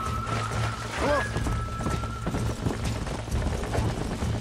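A horse whinnies in the Red Dead Redemption video game, one shrill neigh rising briefly over a steady bed of game noise, hoofbeats and a low drone, moderately loud and mid-distance.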